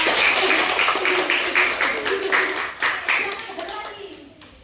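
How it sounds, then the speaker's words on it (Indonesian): Applause from a classroom of students, a burst of lively clapping at close range that tapers off over a few seconds. "beri aplaus yang meriah"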